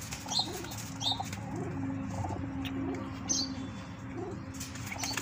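Pigeons of a Haryana breed kept by a fancier coo softly and repeatedly in a quiet outdoor setting, with faint chirps and a brief flutter of wings.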